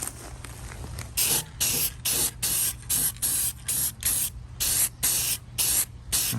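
A spray can paints the housing of a SKIL Model 577 reciprocating saw outdoors. About ten short, even hissing bursts come in a steady rhythm, close and fairly loud, with no talking.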